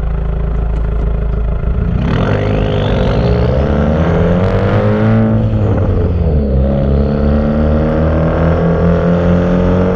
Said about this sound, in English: I'm in neutral, so I'm coasting.